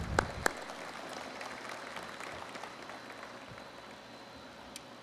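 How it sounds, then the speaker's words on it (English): Soft, scattered applause from a crowd at a design reveal ceremony patters steadily in a large room, with a couple of sharper claps at the start. "Please, ladies and gentlemen, just some applause."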